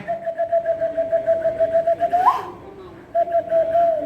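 A hand whistle imitates a dove, with quick pulsing coo-like tones that pause midway and then resume, with faint voices in the background.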